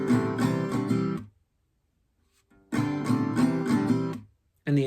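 Acoustic guitar strums chords from a song, two bursts of bright rhythmic down-up strumming, each about a second long and close and clear, separated by a silent pause, with a third burst starting at the end.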